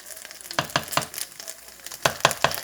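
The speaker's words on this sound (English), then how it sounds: "So as you're cooking the sandwich" A hangover sandwich frying in a pan, with steady sizzling punctuated by sharp crackles and pops in an uneven rhythm, close and moderately loud, with no voices.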